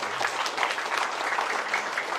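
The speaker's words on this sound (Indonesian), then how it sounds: "Kita kasih tepuk tangan kepada teman-teman Amalia." A short burst of steady audience applause rings out at a talk, sustained and fairly full throughout its couple of seconds.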